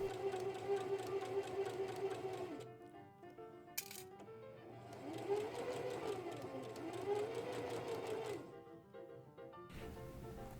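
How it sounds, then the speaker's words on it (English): A sewing machine stitches insertion lace onto fabric along a straight edge, a fairly quiet, steady run that pauses a few times with brief gaps and clicks before starting again. "Next, I sewed the lace down along each side on the straight edge."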